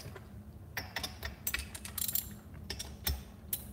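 A ratchet wrench clicks in quick, uneven bursts while loosening a bolt on a Predator 212 small engine, the sharp pawl ticks close and fairly quiet with short pauses between runs of turns.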